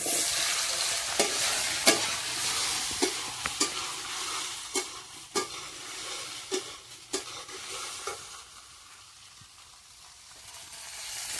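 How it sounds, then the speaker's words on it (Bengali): Green chillies frying in oil for a Bengali fish curry, a close steady sizzle broken by a dozen sharp spatula scrapes and taps that thin out toward the end, no speech. "যে কোনো তরকারিতে কাঁচা ঝালগুলো এইভাবেই ভেজে দেবো"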